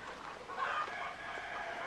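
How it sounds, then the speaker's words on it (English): Chickens clucking at a bird rehabilitation centre, a steady close murmur of fowl calls with a slightly louder burst in the middle and no talking. "Let's go here to the chickens."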